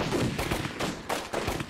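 Gunfire in the indie horror video game Nightmare Puppeteer: a quick run of sharp, loud shots, about four or five bursts spaced irregularly across a couple of seconds, with no talk over them.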